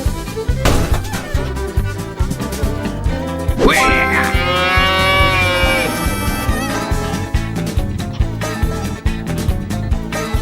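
A cartoonish cow in the Run Cow Run video game lets out one long, loud moo over busy, constant game music and effects.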